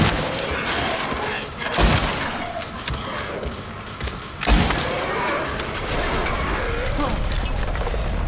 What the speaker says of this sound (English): I'm gonna use rifle on him.